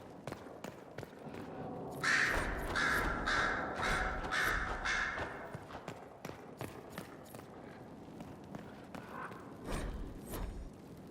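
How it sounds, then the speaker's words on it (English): Crows cawing in Dragon Age: Inquisition, a run of loud repeated caws near the middle over a busy game-world background of clattering and shuffling sounds, fading to scattered calls later. "Sister Liliana will want access to the birds."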